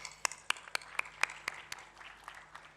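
Scattered claps from a small audience at a conference panel, a handful of sharp, distinct hand claps in an uneven rhythm that thins out toward the end, fairly faint and heard from across the room.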